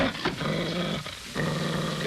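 A dog growls in a 1952 Western television episode, low and rumbling in a few close bursts with short gaps between them, heard alone without talk.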